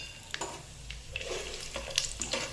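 Seeds and cashews frying in a pan with oil, a soft continuous sizzle broken by scattered crackles and light scraping of a spoon against the pan, close by.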